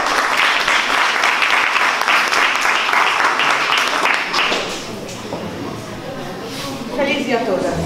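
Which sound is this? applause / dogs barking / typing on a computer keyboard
applause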